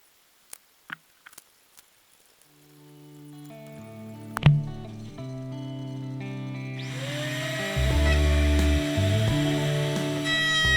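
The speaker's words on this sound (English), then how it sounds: "Here I'm just cutting a groove for the bottom panel, and I'm using a rabbiting bit in my router table." A router table fitted with a rabbeting bit spins up and cuts a groove in wood for a tackle box bottom panel, a loud steady whine with harmonic tones following a few light taps and a sharp knock.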